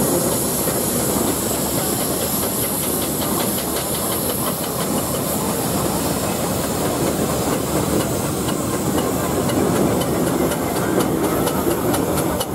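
Steam road rollers in a steam rally parade give off a loud, steady hiss of steam with a faint rhythmic clatter underneath, close and continuous.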